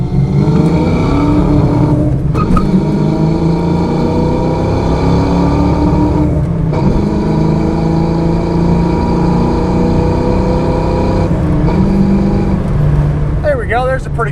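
A 1990 Ford Mustang GT with a 5.0 V8 and a five-speed manual accelerates from inside the cabin. The engine drones loud and near, its pitch rising steadily through the gears, broken by brief dips at the shifts.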